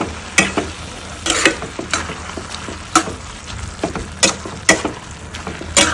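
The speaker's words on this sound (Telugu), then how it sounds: "మళ్ళీ కలుపుకుందాం ఒక్కసారి." Amaranth stems fry in a pan while a spatula stirs them, giving a series of sharp, irregular scraping strokes over a faint, steady sizzle.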